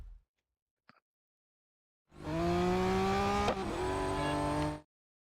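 A race car in Real Racing 3 goes quiet briefly, then roars in for about three seconds with rising revs and a sharp gear change midway before cutting off abruptly.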